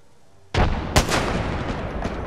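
A frag grenade explodes in a video game battle royale match: a sudden loud blast at about half a second, followed by a sharp second crack and a lingering rumbling tail.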